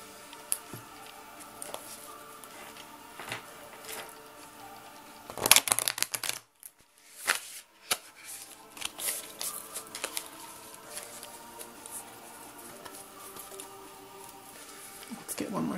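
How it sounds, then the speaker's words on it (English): Large tarot cards being shuffled by hand, soft irregular riffling and patting taps, with a louder burst of card handling partway through amid quiet pauses. "Let's get one more shuffle in."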